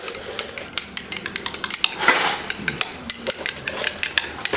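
An herbal ball being broken up and stirred into water in a vessel, heard as rapid, steady metallic clinks and scraping close by, with a swishing surge midway.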